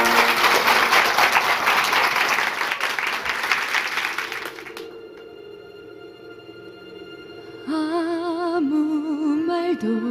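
Audience applause at a talk-show concert, a dense wash of clapping filling the first half and fading out, followed by quiet and then the start of sung music.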